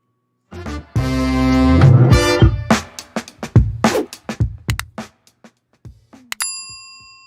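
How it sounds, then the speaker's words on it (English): A bell on a real estate talk show rings out loud and close, opening with a sustained clang, then a run of sharp strikes that thin out, ending with one bright ding that hangs in a long tonal ring. "Let's go ahead and hit the bell, Shana."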